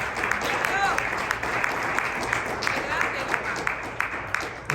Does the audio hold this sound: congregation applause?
yes